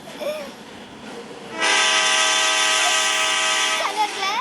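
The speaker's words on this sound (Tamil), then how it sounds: "இப்போ நம்ம வந்து ஹாரன் அடிச்சுக்கிட்டு இருக்கோம்" A train horn sounds in the GTA video game. Quiet game ambience plays first, then the horn starts at about 1.6 seconds as a loud, sustained, multi-tone blast that holds to the end.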